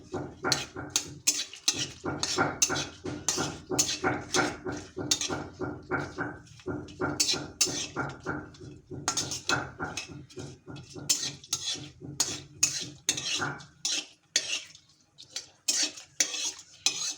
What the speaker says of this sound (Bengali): এখন একটু নাড়াচাড়া করে নিতে হবে।